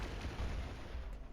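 Rapid bomb explosions in the video game Metroid: Samus Returns, a steady run of dense, booming blasts packed close together across the whole moment, loud and continuous with no talking.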